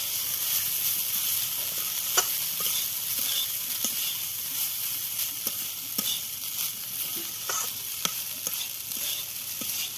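Leftover rice and softened peas are stir-fried in a pan under a continuous hissing sizzle, with regular sharp spatula taps and scrapes landing about once a second, and no talking.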